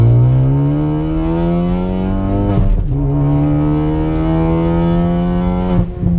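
A tuned 350 hp 2016 Ford Focus ST pulling in second gear: a loud, close, droning engine tone that climbs steadily in pitch, briefly dips at a shift-like break, then rises again, no talking.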